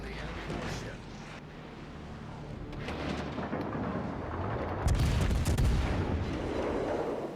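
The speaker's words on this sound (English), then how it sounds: "Concentrate fire on the enemy warship." Cruiser guns firing in World of Warships Legends from the premium cruiser Atago, heavy booming salvos with a big blast about two-thirds through, under a game voice and low rumble.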